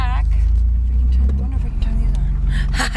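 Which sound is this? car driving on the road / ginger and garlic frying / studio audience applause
car driving on the road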